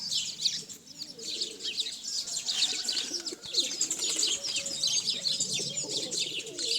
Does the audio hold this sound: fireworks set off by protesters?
no